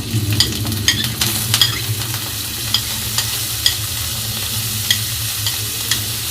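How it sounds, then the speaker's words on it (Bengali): Crushed onion and garlic fry in hot oil with green chilies, making a loud, continuous sizzle. Crisp pops and spatters break through it at irregular intervals. "থ্যাতো করে নেওয়া পেঁয়াজ রসুনটা তেলের মধ্যে একটু ভেজে নিব"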